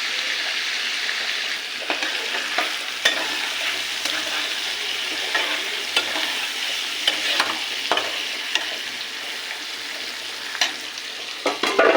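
Fried onions (beresta) for chicken biryani sizzle steadily in a pan, close and fairly loud, while a utensil stirs them with sharp scrapes and clicks scattered throughout.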